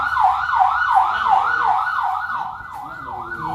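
A loud ambulance siren wails in a rapid, repeating up-and-down pattern, close and continuous.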